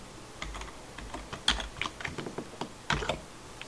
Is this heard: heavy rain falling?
no